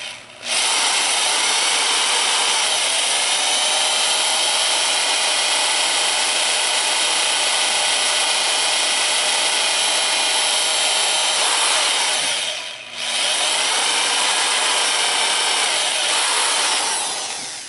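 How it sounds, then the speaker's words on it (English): A power drill bores holes in cast iron during a crack repair, a loud continuous high whine held close for many seconds, briefly stopping once before grinding on steadily with no talk. "So let's go in and drill some of these holes"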